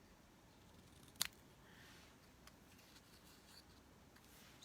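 Scissors make one quick, crisp snip through a stamped paper card, close and fairly quiet, with a faint tap or two afterward over a low background hiss.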